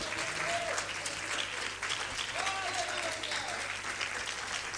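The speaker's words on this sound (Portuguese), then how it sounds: "dá uma salva de palmas ao Senhor pela vitória de Deus na tua vida" A church congregation at a women's congress claps together in steady, dense applause, loud and enveloping, with faint voices rising briefly underneath.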